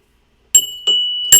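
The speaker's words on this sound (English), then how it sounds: "Where's my bell?" Small bell rung three times, each a bright clear ding with a ringing overtone that lingers between strikes, close and fairly loud with nothing else heard.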